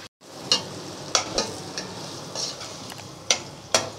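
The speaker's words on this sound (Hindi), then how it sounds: "प्याज हमारी ब्राउन होती जा रही है" Onions browning in hot oil for a beef korma, a continuous soft sizzle broken by several sharp clicks of a spoon stirring against the pan.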